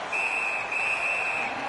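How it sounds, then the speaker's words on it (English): A referee's whistle blows at a Blues versus Blackhawks ice hockey game, a shrill sustained tone with a brief break, ringing over a distant arena crowd murmur. "And the referee's whistle has stopped"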